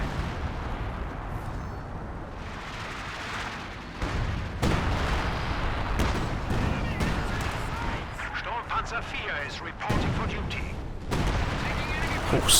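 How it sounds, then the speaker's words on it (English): A ZiS gun artillery barrage in a 2v2 strategy game match sounds as repeated booming impacts and rumbling explosions, with sharp hits cutting through under steady commentary. "Oh, sniper almost goes down to a Zis barrage, it looks like."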